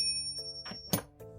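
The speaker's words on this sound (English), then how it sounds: "Let's ring the bell." A small bell is rung once to mark finishing a cash-stuffing envelope challenge, giving a sharp bright strike that leaves a sustained ringing tone, near and fairly quiet in an otherwise still room.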